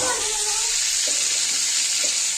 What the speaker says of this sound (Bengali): কষানো হচ্ছে এবার।